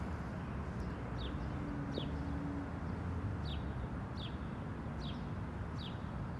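Short high bird chirps repeat at regular intervals over a steady background hum, fairly faint and somewhat distant.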